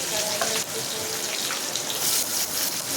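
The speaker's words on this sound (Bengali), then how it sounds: "এর মধ্যে পেঁয়াজ দিয়ে দেবো, অনেকটা পেঁয়াজ দেবো" Onions frying in oil in a pan for an egg and onion bhuna, a steady close sizzle and hiss that holds level throughout with no pauses.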